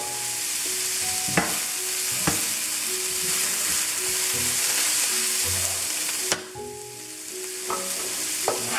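Garlic and cilantro fry in a pan, with tomatoes among the beans ingredients. A steady, loud sizzle runs throughout, broken by a few sharp clinks of a utensil stirring against the pan.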